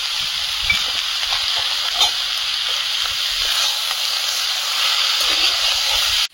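Meat with turmeric powder sizzling in hot oil in a pan, a steady loud hiss holding for several seconds with faint crackles and no talk.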